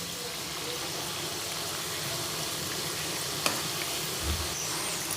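Crispy wheat flour kapnya deep-fry in hot oil, giving a steady, even sizzle and bubbling close by, with one faint clink and a soft low thump near the end and no talking.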